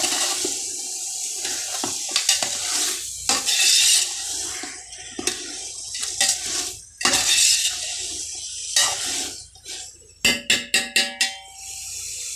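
Thick curd slops and pours into biryani masala in a pot, with wet gurgling splashes, scraping and a burst of quick clinks from a spoon against the vessel near the end.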